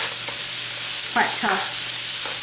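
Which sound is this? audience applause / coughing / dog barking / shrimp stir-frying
shrimp stir-frying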